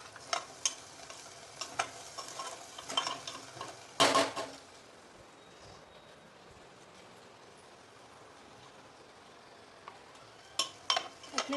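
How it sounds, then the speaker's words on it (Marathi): Masala sautéing in a pan for a Sunday fish curry, a soft steady sizzle with clinks and scrapes of stirring that bunch into louder bursts near the start and end, alone without any talk. "मसाला चांगला परतून घेतला आहे"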